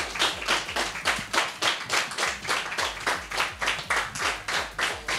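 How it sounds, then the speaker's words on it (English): An audience at the Avalanche 5 event claps for June in a rhythmic, unison beat, about three claps per second, evenly spaced and moderately loud across the whole stretch. "let's give a big round of applause for June now"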